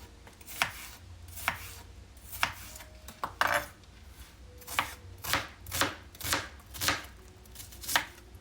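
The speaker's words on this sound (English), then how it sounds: "I'm gonna go ahead and chop up some onion" Knife chopping onion on a cutting board, a steady run of about a dozen sharp, close thwacks at a fairly even rhythm, with no voices.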